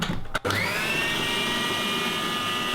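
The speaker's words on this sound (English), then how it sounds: "So I'm just going to grind this down." A blender grinds oats into flour, starting with a brief stop-start pulse before settling into a steady, loud, high-pitched whir that runs on without a break.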